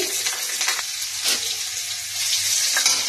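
Cumin seeds, ginger paste and green chilli fry in a hot pan with a steady, close crackling sizzle and occasional stirring scrapes, continuous throughout with no talking.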